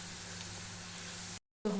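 Oil sizzling as vegetables are tempered in a home kitchen, a steady close hiss for over a second, then a brief cut and a louder burst of frying.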